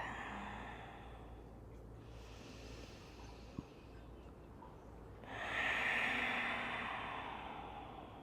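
A yoga practitioner breathes slowly and audibly during practice, two long airy breaths separated by a quieter pause, close and soft against a hushed room.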